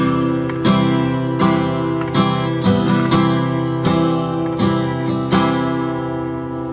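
Slow guitar strumming pattern with ghost strums, played close with distinct accented strums at irregular intervals over sustained ringing chords, no talking.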